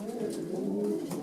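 Racing pigeons in a loft coo softly and steadily at close range, a low murmuring burble with no talking.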